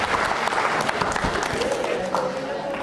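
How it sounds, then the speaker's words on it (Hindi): Studio audience applause on a Rajasthan TV quiz programme about cows, a busy mix of many hands clapping with some voices and crowd noise mixed in, fairly loud and continuous. "अमन जैन के लिए जोरदार तालियां बजाइए"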